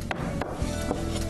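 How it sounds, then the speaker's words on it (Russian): A knife cutting fish into small pieces: a few sharp, close taps of the blade against a board, irregularly spaced over a brief moment. "Режем на маленькие кусочки."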